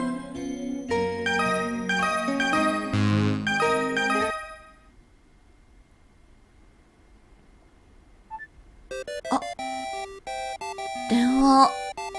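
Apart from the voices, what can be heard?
phone ringing in video game Tokimeki Memorial Girl's Side 3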